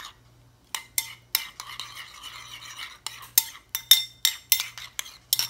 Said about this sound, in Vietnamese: Mình khuấy đều như vậy là được rồi nha.